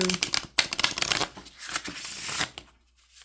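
Rapid papery riffling of a deck of cards being shuffled, a few quick bursts up close with brief pauses, then it stops.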